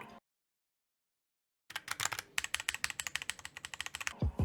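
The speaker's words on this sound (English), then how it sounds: "Even though I don't know that much about keyboards, to my non-enthusiast ear, it does sound really good, and the switches feel really nice in the hands." Rapid, loud clatter of a mechanical computer keyboard in a gaming and streaming setup, a dense run of close keystrokes starting after a brief silence, with no talking.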